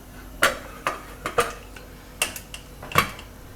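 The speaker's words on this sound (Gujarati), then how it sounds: "આને આપણે હવે કુકરનું ઢાંકણું બંધ કરી દઈશું" A metal pressure cooker lid being fitted and closed, with a series of sharp close clanks and clicks spaced unevenly over several seconds, no voices.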